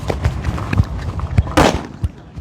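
Sodium metal dropped into hydrogen peroxide sets off a series of sharp popping cracks, ending in one louder bursting blast, all close by with no talking.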